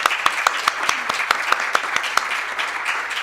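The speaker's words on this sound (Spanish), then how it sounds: "pues un aplauso enorme" Audience applause at a talk on women in the maritime sector, a thin, sparse clapping with a few distinct sharp claps standing out in an irregular rhythm, fairly close.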